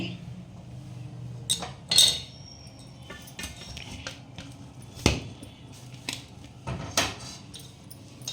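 A metal plate being lifted away while palm fruit roti bakes: scattered light metallic clinks and scrapes, a few sharper clanks standing out against a low background hum, with no talking.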